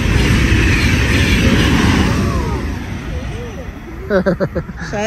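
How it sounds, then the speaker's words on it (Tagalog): A fast train rushes past at close range with a loud, dense roar that gradually fades, followed by a few rhythmic clacks as cars go by, while people chat nearby. "Yung train. Ang bilis."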